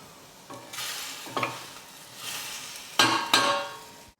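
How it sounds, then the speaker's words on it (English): Berries stew in a pan on the stove with a soft sizzle, while a utensil stirs and scrapes against the pan in several separate strokes, close and clear, with no talking. "I'm literally waiting 10 minutes for my berries to stew on the stove."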